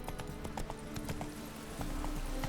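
Hooves of Roach, a horse galloping in The Witcher 3, drum in a steady quick rhythm, close and loud over a dense ambient backdrop.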